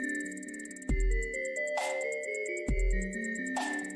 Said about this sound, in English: which in this case is the fast hi-hats.